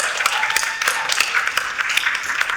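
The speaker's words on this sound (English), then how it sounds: "a big round of applause for our amazing host" An audience at an SEO panel discussion claps for the event host, a steady patter of many hands at moderate loudness, dense and continuous across the short span with no voices standing out.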